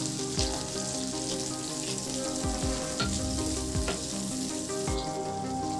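A large chopped onion and seeded capsicum pieces fry in a pan with salt, a loud, close, steady sizzle with occasional spatula knocks and scrapes against the pan.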